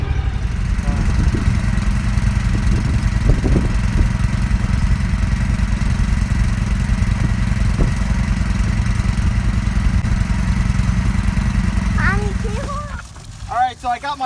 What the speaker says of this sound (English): I got my pump fired up down there, and I'm just idling down there